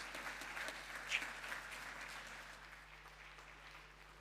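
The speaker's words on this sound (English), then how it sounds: "please give them also a big round of applause" An audience at an E.A.T. 2025 dance presentation applauds, a faint, even patter of many hands from a distance that slowly tapers off over a few seconds.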